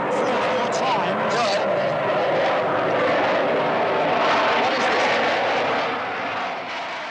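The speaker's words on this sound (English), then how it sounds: "It's quite clear that the jet is the defining sound of the last 40 years of the 20th century." Jet aircraft near London Airport, a loud, continuous broadband roar that holds steady for several seconds and eases slightly at the end, close by.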